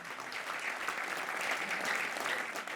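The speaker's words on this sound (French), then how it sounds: "Merci d'applaudir" An audience applauding steadily at a sports awards ceremony: a moderate, even wash of many hands clapping throughout, with a faint murmur beneath.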